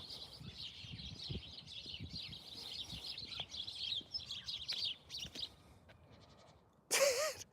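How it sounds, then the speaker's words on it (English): Many small birds chirp and twitter continuously outdoors, fairly faint, then the song thins out before a brief louder burst near the end. "let me allow you people to listen to the birds first of all"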